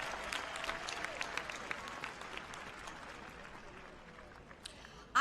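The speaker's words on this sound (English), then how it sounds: "give our choir another round of appreciation and your applause" Audience applause for a choir at a university commencement ceremony, a steady wash of many hands clapping at moderate distance that slowly thins out over about five seconds.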